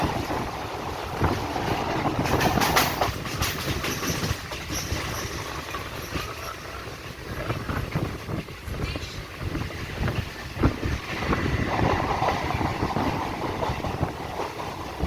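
A passenger train runs at speed near Haripal station on the Tarakeswar line, a loud continuous rumble and rattle with wind buffeting throughout.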